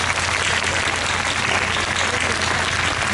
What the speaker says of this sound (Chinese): 借着各位掌声来感谢